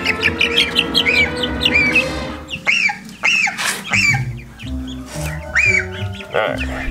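Baby chicks being gathered back into a brooder, with repeated close high peeping and chirping, bursts of fluttering and handling noise, and a person talking over them.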